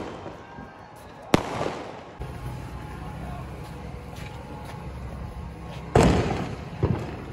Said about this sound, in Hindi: बहुत सारे पटाखे ये भाई हमारे सारे पटाखे एंड बम पटाखे